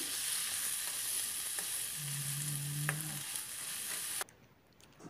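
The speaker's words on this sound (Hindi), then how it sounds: "पहले हम आलू को फ्राई कर लेते हैं" Potatoes fry in about two spoons of hot oil in a kadai on a gas stove, a steady close sizzle with a couple of light utensil taps and a brief low hum before the sound suddenly drops away.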